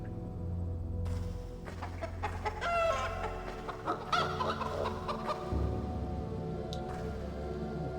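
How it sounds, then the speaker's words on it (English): Chickens cluck and crow in a cluster of overlapping calls in the Xbox game Arx Fatalis, with a steady low ambient drone beneath the busy, fairly close birds. "Okay, a bunch of chickens"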